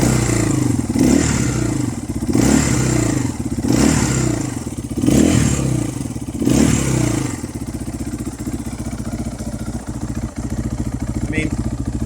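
A 2023 GPX 300 R FSE motorcycle engine idles quietly in bright daylight, a steady low putter, with rhythmic louder thumps over the first seven seconds that then settle into an even running tone.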